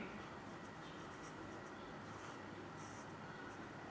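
A pencil scratches words onto a worksheet close by. Short bursts of writing come in quick strokes, faint under a steady background hiss.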